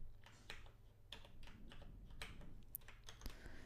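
PHP code being typed on a computer keyboard: quiet, close key clicks come in an irregular, steady patter with short pauses and a few sharper taps, with no voice.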